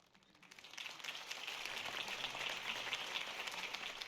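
In-game crowd applause follows Harvey Dent's campaign speech in Batman: The Telltale Series, swelling in from quiet and then holding as a soft, distant wash of many hands clapping.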